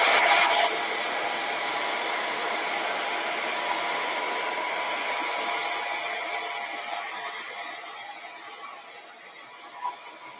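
Heat tool blowing hot air onto alcohol ink, a steady close whooshing hum that starts loud and slowly fades, with a small click near the end.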